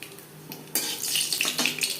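Black cumin seeds fry in mustard oil for a Bengali ghetkol leaf paste dish. The sizzle grows louder partway through, with clinks of a spoon against the pan over steady crackling.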